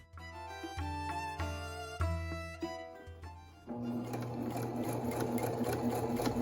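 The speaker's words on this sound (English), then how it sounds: "I had a piping foot that I didn't know about that has a groove in the bottom which lets you sew over the piping" A sewing machine fitted with a piping foot stitches along fabric piping, whirring in several short bursts with brief pauses between them, then running in one longer continuous stretch.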